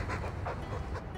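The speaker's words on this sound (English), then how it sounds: "All that noisy dog breath, day in, day out." Dog panting heavily in the fantasy role-playing game Dragon Age II, a close, steady rhythm of breathy huffs about every half second over a low background rumble.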